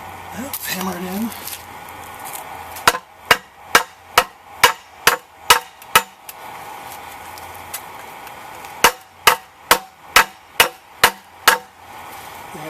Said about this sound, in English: Let's hammer it in.